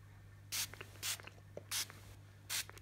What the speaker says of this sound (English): Spray it on your belly.